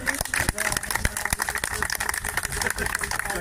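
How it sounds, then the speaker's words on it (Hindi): A crowd at the opening of an open-air gym on a colony sports ground claps steadily, with dense, fairly close applause and sharp individual claps running throughout. "जोरदार तालियों से अभिनंदन करें।"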